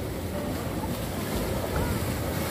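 Surf on the rocky shore of Karang Hawu beach near Pelabuhan Ratu, West Java: a dense, continuous roar of breaking waves mixed with wind buffeting the microphone, steady and loud with a slight swell toward the end.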